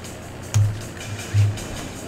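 An alarm sound effect in GTA 5 Online sounds as two short, low buzzing tones, evenly spaced about a second apart, standing clearly above faint background noise.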